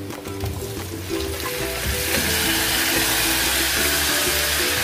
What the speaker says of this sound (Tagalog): ihulog yung shrimp.